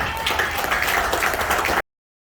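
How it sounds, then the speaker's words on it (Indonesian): A seminar audience breaks into brief, loud, dense applause that cuts off abruptly after about two seconds. "Tepuk tangan dulu buat kita."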